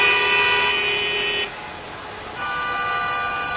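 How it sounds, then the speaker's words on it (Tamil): A car horn blares steadily for about a second and a half, then after a brief lull another horn sounds, both loud and close amid traffic. "இப்படிதான் ஹார்ன் அடிச்சுட்டே போக முடியும்"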